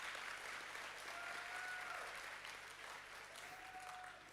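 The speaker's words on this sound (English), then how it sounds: "One more round of applause for our coaches." Steady applause from an audience honoring coaches at a school athletics awards show, sustained and fairly distant across the hall, with faint whistles rising above it.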